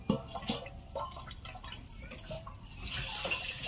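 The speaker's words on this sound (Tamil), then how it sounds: "தண்ணி அப்படியே கொஞ்சம் கொஞ்சமா வருது தண்ணியை திறந்து விட்டுருக்கேன்" Water runs slowly from an opened tap, a soft trickling and splashing that continues throughout, with a voice speaking faintly underneath.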